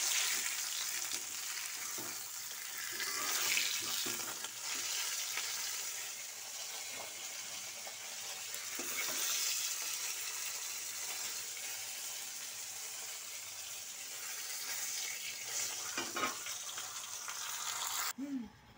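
Catla fish heads fry in oil in a pan, giving a dense, steady hiss and sizzle close by that holds evenly throughout with faint stirring, with no talk.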